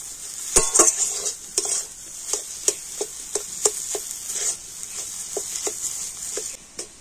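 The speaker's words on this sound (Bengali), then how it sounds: "সমস্ত মশলা দিয়ে আলুটা কিন্তু খুব ভালো করে এইভাবে নাড়াচাড়া করে নেব" Spiced potatoes stirred and fried in a pan, a utensil scraping and tapping the pan in an irregular rhythm over a constant bright sizzle, close and clear, with no talk.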